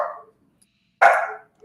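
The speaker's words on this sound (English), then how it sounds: "Sorry about the dog." A dog gives two separate barks about a second apart, fairly close and loud, with no talking over them.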